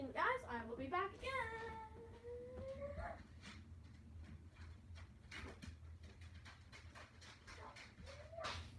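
A pet dog whimpers indoors in a few high, wavering whines that slide downward, the longest in the first three seconds, then gives softer short whimpers over a low background hum.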